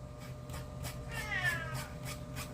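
A pet cat gives a soft, drawn-out meow over a steady background hum, with faint rasping noises pulsing around it.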